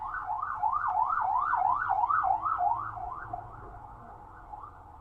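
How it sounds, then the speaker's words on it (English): Emergency vehicle siren passing outdoors, a loud wailing sweep rising and falling in quick regular cycles, then fading as it moves away, with a low rumble beneath. "waiting for the sirens to pass by"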